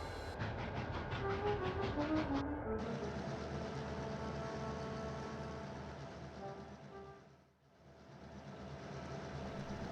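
A freight train rolls past at a steady pace, sending out a continuous rumble with rhythmic clickety-clack from the wheels and a brief tonal horn-like sound early on, then fading slightly as it moves along.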